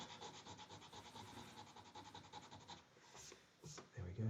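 Sandpaper wrapped around a fingertip rubs steadily back and forth over a custom guitar body, working out deeper scratches in a quick, even scraping rhythm that thins out near the end.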